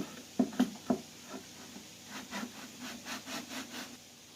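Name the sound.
cover sliding back onto an infrared heater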